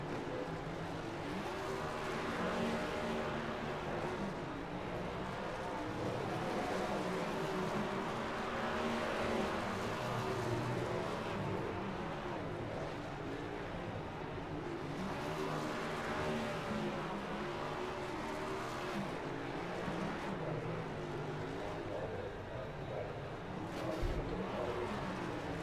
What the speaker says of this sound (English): He's going to take that car that is beat down, and he is going to burn it down.